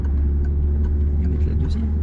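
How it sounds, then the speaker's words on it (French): A car pulls away from a traffic light during a driving lesson and gently accelerates, its engine a close, steady low rumble building slightly over a couple of seconds. "Là, on démarre, on contrôle le rétro et angle mort. Et on y va. Là, on peut accélérer légèrement"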